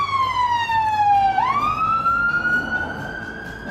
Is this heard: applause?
no